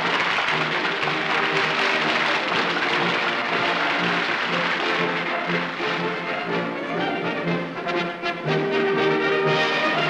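A vast crowd of half a million people fills the streets of Busan in spring rain to welcome West German President Lübke, a dense, continuous roar of cheering with steady tonal notes running through it.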